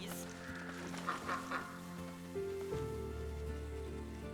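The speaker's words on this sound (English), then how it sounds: "Baby ducks, everybody!" Baby ducks quack in the game Lost Ember, several faint, soft peeps near the start over steady low music and ambience, followed by a sustained tone.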